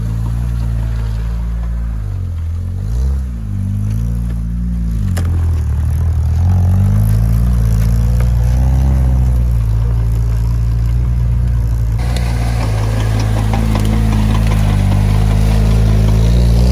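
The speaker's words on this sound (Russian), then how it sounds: "Стой, много газуешь, потихоньку, туда." An off-road vehicle engine labours and revs continuously, loud and close, while climbing a steep mountain ridge track, the pitch rising and falling with throttle throughout.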